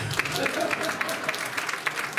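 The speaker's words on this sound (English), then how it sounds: "Thank you for applauding." Brief applause from a comedy club audience, a short burst of scattered clapping at moderate volume over crowd murmur.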